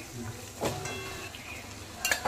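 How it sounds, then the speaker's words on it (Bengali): Marinated chicken going into a pan of spice paste fried until the oil separates, giving a steady sizzle and frying hiss with a stirring scrape and a brief clink of utensils near the end. "এবার আমি এখানে দিয়ে দেব ম্যারিনেট করে রাখা চিকেনটা।"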